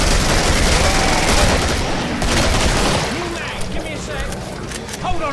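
Dense, loud bursts of gunfire rattle through a co-op session of the video game Killing Floor, with rapid overlapping shots pressing on continuously and excited voices shouting over the shooting.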